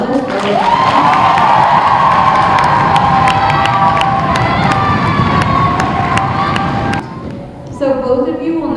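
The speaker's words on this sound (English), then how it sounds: "one other big round of applause before we start the championship round" A school geography bee audience bursts into loud, continuous cheering, whistling and applause for two finalists before the championship round, dropping off abruptly as a speaker starts talking.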